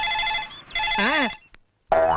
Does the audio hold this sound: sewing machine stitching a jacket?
no